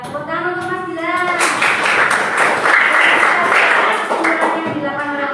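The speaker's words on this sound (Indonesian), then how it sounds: "Ya, tepuk tangan untuk Mas Gilang." Audience applause at a school classroom session, a dense wash of clapping that swells in after a voice and holds steadily loud, with talk near the start.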